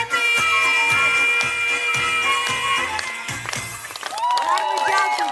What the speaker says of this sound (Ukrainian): Гучні гучні оплески.